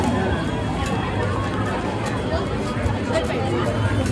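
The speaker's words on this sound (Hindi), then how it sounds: "यहाँ पे घनघोर भीड़ लगी हुई है, अभी शाम के टाइम में लोग आरती वगैरह कर रहे हैं" A dense crowd at Gangaur Ghat in Udaipur during the evening aarti makes a steady, thick babble of many overlapping voices, with no single speaker standing out.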